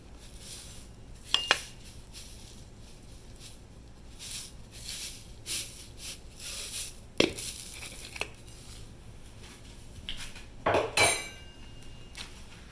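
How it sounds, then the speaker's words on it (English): A utensil stirs breadcrumbs into a crab cake mixture with lemon juice in a bowl, giving intermittent clinks, scrapes and soft squelches against the dish, close by with no voices. "Bunch of mixing going on."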